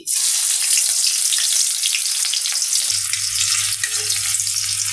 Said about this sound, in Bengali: গরম মশলাটা ভাজা হয়ে গেছে এবার আমি দেব পেঁয়াজ কুচি